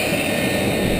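An aircraft roars past at low altitude in a high-alpha pass a few feet from a jet car, a loud, steady broadband jet rush without voices.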